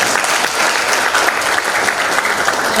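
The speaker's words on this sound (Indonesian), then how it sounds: "Tepuk tangan dulu." A room full of participants at a church Sunday school teachers' course claps together, a loud, even wash of applause lasting a few seconds, with no speech on top.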